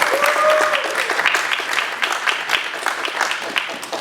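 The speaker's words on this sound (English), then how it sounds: "So let's give them another round of applause." A convention hall audience at a San Diego Comic-Con panel applauds the panelists, with dense, sustained clapping from many hands filling the room, and a voice faintly underneath.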